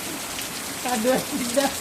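Heavy rain pours down steadily as a dense hiss throughout, while a person speaks briefly over it close by.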